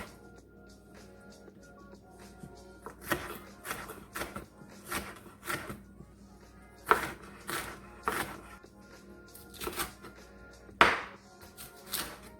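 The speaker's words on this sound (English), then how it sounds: "Next we're chopping one half of a red pepper" A knife chops half a red and half a green bell pepper, giving about a dozen crisp, evenly spaced strikes on a board, close and alone with no talk.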